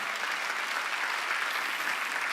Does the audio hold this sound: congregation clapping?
yes